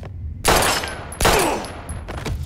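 Two loud gunshots ring out close by in the Life is Strange game, each followed by a ringing tail, then a fainter third crack near the end.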